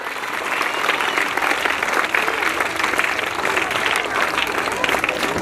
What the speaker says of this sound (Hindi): तालियों के साथ सर का स्वागत करें